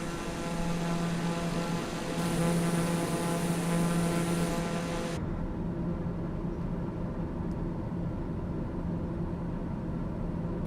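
A simulated airliner on approach into JFK in Flight Simulator 2020 drones steadily with a tonal engine hum, a brighter layer cutting off midway and leaving a lower, even rumble, with no talking.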